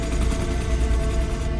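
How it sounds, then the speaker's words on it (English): Gunfire on a hospital roof during a hurricane, a dense continuous rattle of rapid shots with a loud booming low end, steady throughout and without talk. "Mel, we have gunfire up here on the roof."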